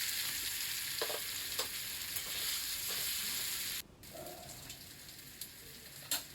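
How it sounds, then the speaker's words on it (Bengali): Ginger garlic paste dropped into hot oil for a rohu fish kalia, a bright loud sizzle that suddenly drops to a quieter fry with occasional stirring clinks, no talking. "এরপরে আমি আদা রসুনের যে পেস্টটা ছিল সেটা দিয়ে দেবো।"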